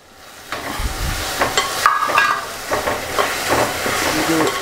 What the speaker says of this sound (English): now we're going to be adding some tomato. And we're going to give this a quick stir.